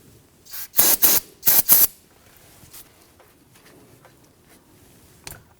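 Two pairs of short, sharp brake cleaner sprays in quick succession, followed by quiet handling noises and a faint click, during front brake hose work on a 2017-2020 Hyundai Elantra.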